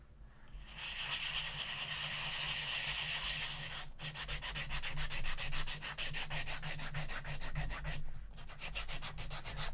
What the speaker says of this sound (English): So I'm just taking this flat block and some sandpaper, and I'm just making sure that this fretboard extension is cleaned off.